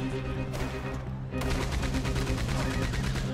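Gunfire in the Western video game Red Dead Redemption 2: a sustained, rapid barrage of shots rattles continuously over a thick, droning backdrop. It is loud and unbroken apart from a brief dip near the start.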